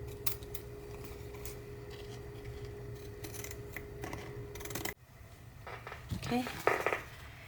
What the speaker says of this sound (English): I think I'll try fancy scissors.